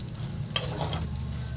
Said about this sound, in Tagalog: igisa-gisa lang ang ating sibuyas at bawang